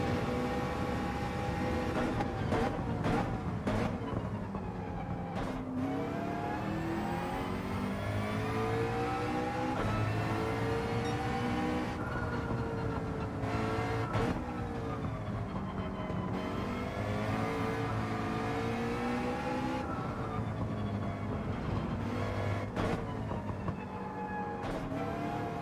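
A McLaren race car in Gran Turismo 7 roars steadily throughout, its engine pitch repeatedly climbing through gears and dropping back between corners, loud and continuous with no talk.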